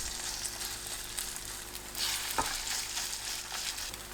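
Steady crackling sizzle of seaweed pancake batter frying in an oiled pan over medium-low heat, with a brief clunk partway through, no talking.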